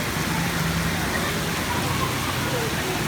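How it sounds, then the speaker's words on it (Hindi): Heavy monsoon-style rain pours down in a dense, unbroken hiss filling the whole clip, loud and close with no pauses. "बहुत ही हैवी किस्म की बारिश है यार।"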